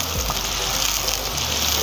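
Vegetables fry in a pan for Nigerian yam porridge, a loud, dense, continuous sizzle like rushing water that holds steady for the whole moment.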